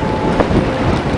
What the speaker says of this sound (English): I think this wind is losing its grip. You hear that?